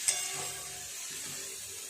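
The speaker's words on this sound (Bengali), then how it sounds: "মশলা দিয়ে খুব ভালো করে কষিয়ে নিয়েছি সবজির সাথে সমস্ত কিছু।" Spices and vegetables sautéing in a pan for a fish curry, a faint steady hissing sizzle with a soft clink at the start and quiet stirring.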